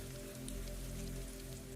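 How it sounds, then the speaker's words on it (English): Gentle rain keeps falling on a greenhouse roof, an even, continuous patter of drops, faint and calm, with no one speaking. "Rain continues softly overhead."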